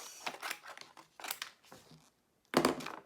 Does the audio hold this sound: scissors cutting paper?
yes